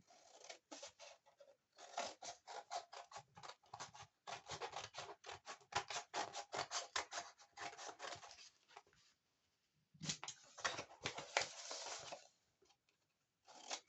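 A blade cuts paper along a 40 cm ruler for a Christmas scrapbook album cover, making quiet bursts of rapid scratching strokes that pause briefly and then resume, close and alone.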